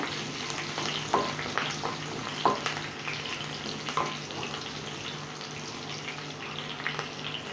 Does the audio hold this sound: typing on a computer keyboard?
no